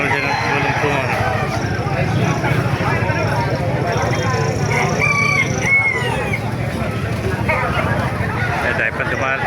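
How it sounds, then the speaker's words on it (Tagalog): Roosters crowing and chickens clucking at a crowded poultry market in Calumpit, continuous and fairly loud over a dense background of crowd noise and chatter. "Maraming manok ngayon dito sa Kalumpit."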